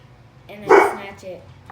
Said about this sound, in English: I'm sorry about the barking, you guys. That's just my dog.